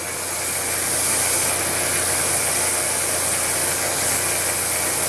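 A milling machine turning at about 1400 RPM cuts a bearing housing for an etching press, giving a steady, loud, unbroken whir and hiss with no voices.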